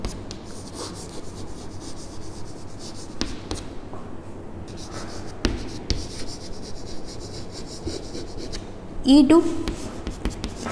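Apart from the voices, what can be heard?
writing on a board during a lecture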